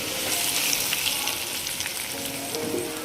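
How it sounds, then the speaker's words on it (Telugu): Hot tempering poured into an amla pickle with green chillies and sesame seeds crackles in a dense, steady sizzle that holds close and loud for a few seconds, with no talking. "తిరగమాత పోసేసాను."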